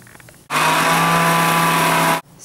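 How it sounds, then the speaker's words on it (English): A kitchen mixer grinder whirs loudly at high speed for about two seconds, grinding roasted cumin seeds, then stops abruptly. It starts and ends sharply, with quieter room sound before and after. "Now we'll grind this Zeera, this roasted Zeera. We'll add it to our mixer jar."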